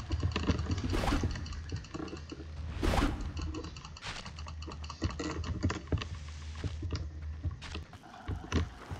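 Fast, uneven clicking from a computer keyboard keeps up throughout, close and fairly quiet, with a few sharper louder keystrokes standing out from the steady patter.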